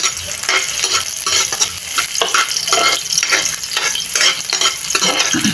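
Garlic sizzles in hot oil in a pan while being stir-fried for eggplant and okra adobo. A steady frying hiss comes close up, broken by repeated scraping strokes from stirring, with no talking.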